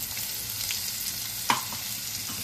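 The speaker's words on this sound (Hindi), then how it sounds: "इसको थोड़ा सा भाज लेंगे अच्छे से" Coarsely pounded spice masala fries in a pan for a potato filling, a steady, close sizzle with a light stirring scrape and a sharp clink partway through.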